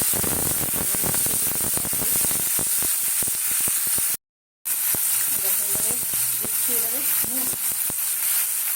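Onion and tomato fry in hot oil in a wok with a loud, dense crackling hiss. A brief dropout cuts it midway, and the sizzle then settles into a steadier sputter.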